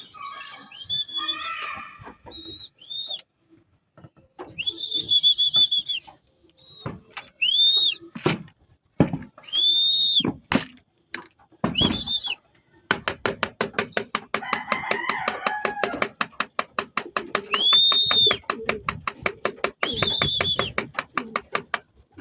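Pigeons in a coop give off repeated chirping and whistling calls. Some come in short bursts and some in a fast, steady run, close by, with no talking.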